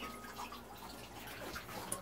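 Off-grid gravity-fed sink tap in a tiny house letting water run at low pressure, a steady soft trickle with faint drips, heard close and alone.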